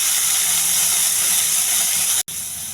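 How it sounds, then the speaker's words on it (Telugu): Diced potatoes fry in a little ghee on a hot pan, giving a steady, loud, close sizzling hiss that cuts out for an instant near the end, with no talk over it. "ఈ ఆలుగడ్డలు బాగా ఏగనివ్వాలి."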